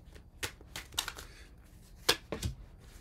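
Tarot cards shuffled by hand for a career reading, a quiet series of crisp riffling and slapping bursts in an uneven rhythm, close and alone.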